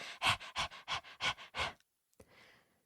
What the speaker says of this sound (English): Charlie and Sophie finally gave up the chase, tongues hanging out, panting hard.